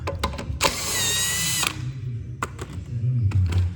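Power tool (impact driver or drill) spinning out wheel bolts on a jacked-up Fiat 500's rear wheel: short bursts followed by one longer whirring run of about a second, close and loud, with clunks and rattles of the loosened parts afterwards.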